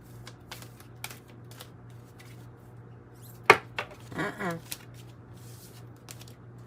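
A Druid Craft Tarot card deck is shuffled by hand: quiet scattered taps and flicks, then a sharp snap followed by a short ruffling riffle, all faint and close with no talking.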